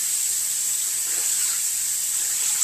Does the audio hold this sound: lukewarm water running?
yes